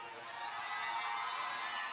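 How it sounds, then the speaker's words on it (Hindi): An audience at a mushaira in Pune breaks into steady, dense applause and crowd noise, filling the space evenly for a couple of seconds with no pauses. "जोरदार तालियों से"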